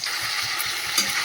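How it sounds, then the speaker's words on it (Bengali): Potatoes fry with salt and turmeric in hot oil, giving a bright, steady close sizzle with faint low stirring bumps across a brief stretch, no voices present. "নুন হলুদ দিয়ে আলু ভাজা বসিয়ে দিয়েছি"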